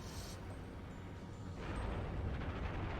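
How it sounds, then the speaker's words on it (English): A cannon fires at a Star Destroyer in the video game Star Wars: The Force Unleashed 2, a broad rumbling blast that swells into a sustained roaring wash, fairly faint overall. "Now we're gonna fire this cannon. One shot, destroys the Star Destroyer."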